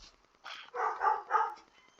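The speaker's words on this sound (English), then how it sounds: "So I also love the fact that your dogs love to bark." Dogs barking in the background, three or four quick muffled barks in a short burst, moderately faint and somewhat distant, with no talk over them.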